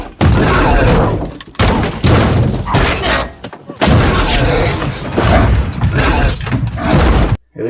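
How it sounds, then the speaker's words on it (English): Horror-film boar charging and ramming a car: heavy, booming thuds and crunching impacts, loud and near, in dense repeated bursts with brief pauses, mixed with film soundtrack noise. "The boar's footsteps and loud thuds against the car when it rams into it"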